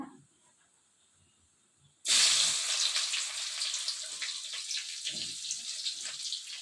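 Chopped onions hitting hot oil with already-popped mustard seeds, a sudden loud sizzle that starts abruptly and settles into a steady, close frying hiss.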